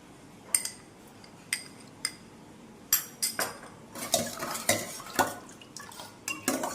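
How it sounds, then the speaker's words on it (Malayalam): Basil seeds are spooned into a mojito drink, giving a series of light metallic clinks and taps of a spoon against glass, sparse at first and then quicker, close and fairly quiet. "ഇനി നമുക്ക് കസ്കസ് ഇട്ടെടുക്കാം."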